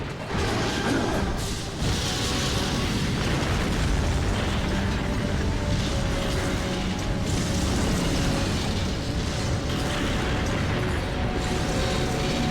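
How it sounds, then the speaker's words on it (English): Missiles exploding in the video game Metal Gear Solid make a dense, continuous roar of blasts and rumbling debris that stays loud and steady throughout, with no voices over it. "all those missiles blew up that satellite"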